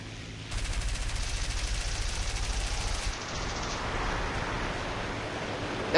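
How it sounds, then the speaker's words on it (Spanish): Continuous rapid aircraft machine gun fire in the video game War Thunder rattles steadily for a few seconds amid a dense roar of noise, then fades into a rushing wash of sound. "No podéis mantener los disparos muy seguidos porque"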